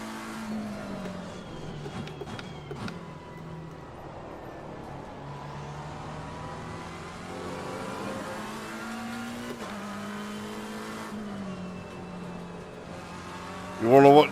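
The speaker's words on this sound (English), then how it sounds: "And full throttle down the hill." In Assetto Corsa Competizione at Kyalami, a race car runs at full throttle down a hill. The engine note climbs and holds steadily, loud and close, through gear changes, with a brief sharp burst at the end and a voice talking over it.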